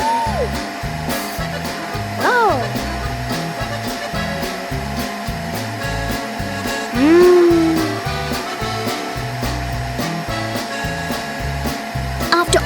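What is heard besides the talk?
noisy vacuum cleaner running, Peppa Pig cartoon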